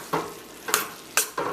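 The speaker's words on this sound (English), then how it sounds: "Give it a good stir, and you'll notice there's a lot of liquid" Three quick stirs through Jamaican callaloo and Swiss chard in a pot full of released liquid, each a short wet scraping swish separated by quiet gaps, close and alone.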